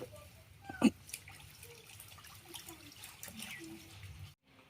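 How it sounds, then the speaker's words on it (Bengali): Large river pangas fish are washed in water, giving faint splashing and sloshing with a sharper splash early on, close and quiet throughout. "তো আমি মাছগুলো ভালোভাবে ধুয়ে পরিষ্কার করে নিছি।"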